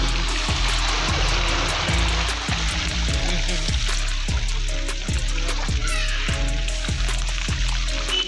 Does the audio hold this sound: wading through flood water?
yes